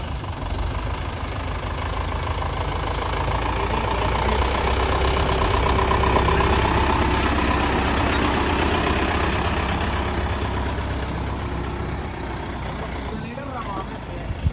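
A Mahindra Yuvo 585 four-wheel tractor engine idles steadily and loud throughout, with a continuous low rumble and a slight knock, on a roadside where it is set to tow a heavy 14-wheel truck.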